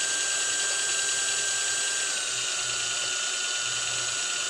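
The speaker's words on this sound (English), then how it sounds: "Squeeze tight against the needle and let the drill work." A drill spins continuously to polish an Iwata Eclipse airbrush needle, a steady high-pitched whine with a faint low grinding flutter, close and unbroken throughout.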